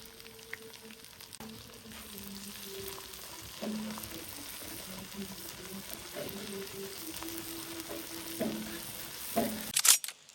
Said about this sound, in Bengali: এখন এই পেঁয়াজ এবং রসুনগুলো একেবারে ব্রাউন কালার হওয়া পর্যন্ত অপেক্ষা করতে হবে প্রপারলি ভেজে নিতে হবে